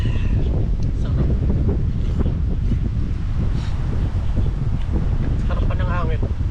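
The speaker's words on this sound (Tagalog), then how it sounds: "Sarap pa ng hangin." Steady wind roars and buffets close against the microphone, a low rumbling gust that never lets up, with faint voices beneath it.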